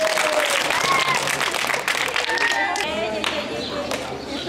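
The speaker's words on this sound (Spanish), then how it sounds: "Otro aplauso, Chocoyole." Audience applause for a girl at a Mother Earth event, a lively round of clapping from a crowd, with cheers and voices rising over it throughout.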